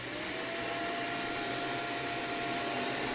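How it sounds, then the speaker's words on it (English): A vacuum cleaner runs at a steady, unbroken whine with a faint high tone over it, close and fairly loud for its whole length, with no voices. "It's a vacuum!"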